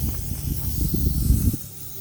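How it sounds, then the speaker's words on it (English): Air hisses out of a punctured e-bike inner tube as it is deflated for patching. The close, breathy rush runs for about a second and a half, then tapers off abruptly. "deflate it again so you're not putting the patch on a stretched out inner tube"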